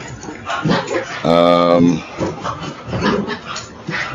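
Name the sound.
dogs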